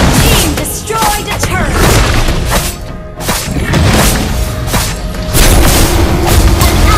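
A turret being destroyed in the Mobile Legends video game: loud, dense booms and crashing blasts with layered game effects, nearly continuous and close, with a short dip partway through.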